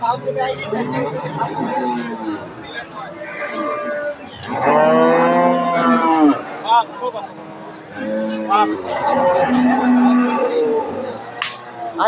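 Friesian cow at a village cattle market lowing in long, loud, drawn-out moos, two or three calls close by, with people chatting around it.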